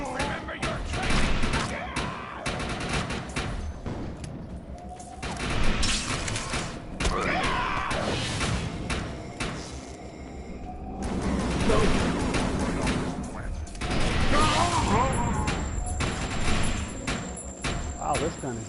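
Bursts of gunfire from Defiance 2050 crack and thud repeatedly, loud and close, mixed with impacts and other game noise, while a voice talks over the shooting.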